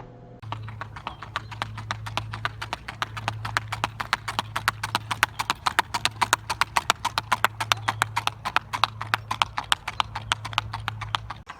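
Hooves of a pacing horse strike the ground in a quick, steady clip-clop rhythm, many crisp hoofbeats over a low droning hum, heard fairly close with no talking.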